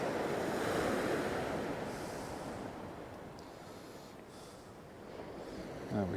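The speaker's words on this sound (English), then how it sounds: "But she's a rough sea today." Rough sea surf breaks on a beach along the Holderness coast at Kilnsea North, a continuous loud wash and roar of waves with wind buffeting the microphone.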